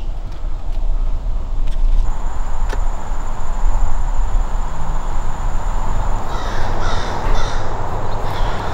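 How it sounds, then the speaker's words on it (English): Crows cawing from trees in a large cemetery, repeated harsh calls over a loud, constant rushing background of wind or distant traffic, with no one speaking. "There's a murder of crows sitting in the trees, kind of just watching over the dead."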